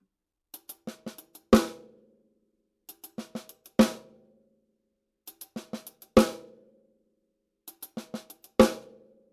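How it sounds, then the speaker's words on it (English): Four repeated seven-stroke roll phrases on hi-hat and snare, each a quick run of light strokes building into a louder accented hit that rings out, played slowly and evenly with no talking. "We're going to play the 7-stroke roll in 1E and A."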